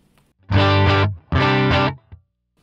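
Two loud, sustained distorted electric guitar chords through a POD Go amp and cab modeler with early reflections room reverb added, each ringing under a second before a short tail, played alone.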